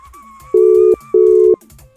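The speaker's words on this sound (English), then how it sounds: "It's ringing." Phone ringback tone on an outgoing call, two loud, steady electronic tones each lasting about half a second, separated by a short pause, with faint background sound in between.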